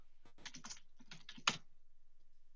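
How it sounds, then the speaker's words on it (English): A remote participant types on a computer keyboard during an online meeting, making a quick run of soft, close clicks and then one sharper key tap, with no talking. "That's where we can hear him typing."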